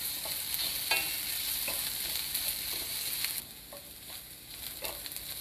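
Chopped onion sautés in a little oil in a pan for a sprouted moth bean curry, a steady broadband sizzle with scattered stirring clicks and scrapes, quieter after the midpoint; no talk.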